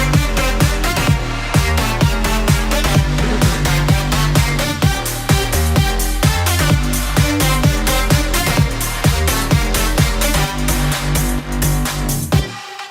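Electronic dance track built from stems of kick drum, claps and a hi-hat loop, with a loud, dense, steady four-on-the-floor beat and bright synths, ending abruptly.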